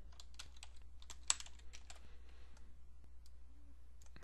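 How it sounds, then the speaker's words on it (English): A computer keyboard is typed on in a quick burst of soft, close key clicks, irregular taps spelling out a short word, then a few slower strokes as the typing trails off. "We'll just type in Celtic."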